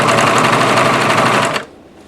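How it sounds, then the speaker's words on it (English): A serger trimming and finishing the edge of a crochet blanket, a loud, close, rapid mechanical whirr running steadily for about a second and a half before cutting off abruptly. "And you see how it's trimming just a little bit off as I'm serging?"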